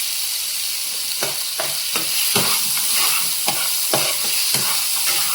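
Masala and potatoes for a rohu fish kalia fry in a pan, a steady sizzle broken by regular scraping stirs of a spatula, heard up close without talk.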